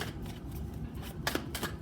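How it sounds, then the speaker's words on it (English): Tarot cards are shuffled by hand, a soft riffling patter with a couple of sharper flicks and slaps near the end, fairly quiet and close. "So I need to shuffle it better so we can get a clear message."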